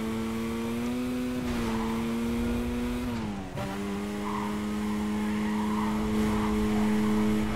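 Race cars roar through a street race in Need for Speed Carbon, a steady loud engine drone with tire skids and squeals, with a brief dip in engine pitch around a gear change midway.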